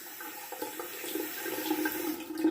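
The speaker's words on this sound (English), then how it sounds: "I'll go ahead and wet the razor and start shaving here" A bathroom tap runs steadily while a razor is wetted before shaving, a continuous close splash with faint clinks, no talk over it.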